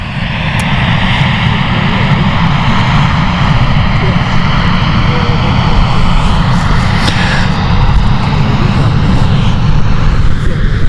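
A private charter aircraft roars loud and close at Stansted Airport, a broad continuous engine rumble filling the whole span without letup.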